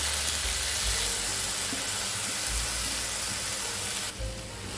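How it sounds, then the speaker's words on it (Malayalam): Washed jeerakasala rice frying in oil in a pot for Thalasseri beef biryani, a steady close sizzle with soft stirring scrapes throughout, easing slightly near the end. "ഇത് എടുത്തിട്ട് ഒരു 3 മിനിറ്റ് നമുക്കൊന്ന് വറുത്തെടുക്കാം"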